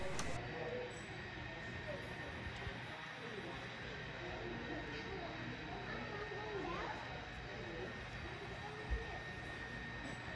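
A model Santa Fe San Francisco Chief passenger train rumbles steadily along a Tehachapi-themed layout curve, a continuous low clatter and hum with faint voices in the background.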